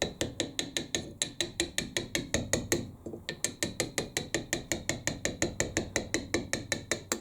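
A hammer striking a chisel while carving a stone house sign, a fast, very regular series of sharp metallic taps, about four per second, close and fairly loud, with one brief pause, no speech.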